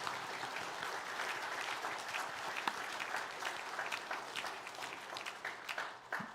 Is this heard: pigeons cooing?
no